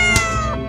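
A single short cat meow, close and clear, rising then trailing off within a fraction of a second.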